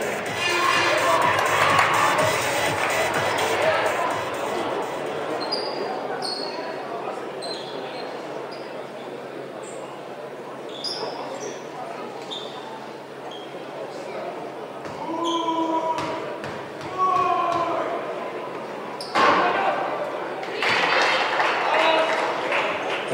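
A women's basketball arena crowd at a EuroCup game cheers and claps, with broad applause swelling early, then ball bounces, squeaking shoes and renewed cheering bursts; an announcer speaks over it at times.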